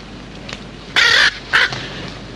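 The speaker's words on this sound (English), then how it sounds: "Sergeant, get rid of that bird immediately." A crow caws twice in quick succession, loud, harsh and close, each call lasting about a third of a second, with a fainter caw just before and quiet room tone between.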